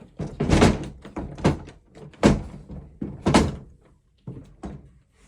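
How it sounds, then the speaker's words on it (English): An old front door in a fixer-upper farmhouse is pushed and forced repeatedly, giving a series of close, heavy thunks and bumps in an irregular rhythm with brief pauses between. "Try to close that door"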